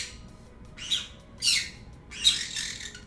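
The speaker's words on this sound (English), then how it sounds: "Birds." Three harsh, raspy bird squawks come in quick succession outdoors near a flower garden, close and loud against a quiet background.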